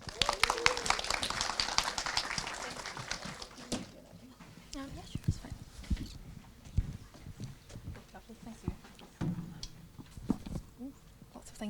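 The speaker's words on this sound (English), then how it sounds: "So if anybody could please give a big round of applause for Karen." Audience applause for a speaker being welcomed at a WTM26 tech talk, a loud burst of clapping for the first few seconds that fades quickly, followed by scattered handling noises and talk.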